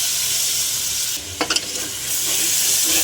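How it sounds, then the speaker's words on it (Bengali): Masala with turmeric, salt and yogurt stir-fried in a pan for a cabbage curry with fish head: a steady sizzle with a cluster of quick spatula scrapes midway. "আর একটু করে ভালো করে কষিয়ে নেব।"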